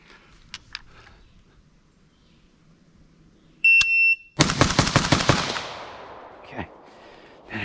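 A carbine fires a rapid burst of loud, sharp shots outdoors, preceded by a brief electronic beep, with echoing decay and a few fainter follow-up reports.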